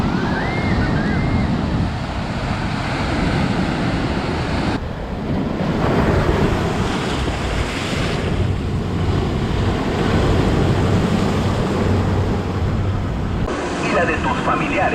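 Ocean surf breaking on the shore at a beach in Mazatlán, a steady, loud wash of waves mixed with gusting wind noise. Faint voices may sit under the roar for the whole stretch.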